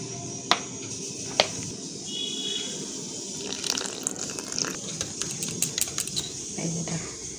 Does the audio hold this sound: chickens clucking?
no